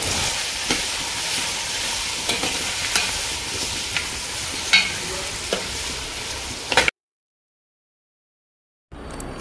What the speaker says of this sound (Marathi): आता यामध्ये हे मटणाचे पीस घालायचे आणि 1 ते 2 मिनटं आपल्याला हे पीस यामध्ये छान असे परतवून घ्यायचे आहेत।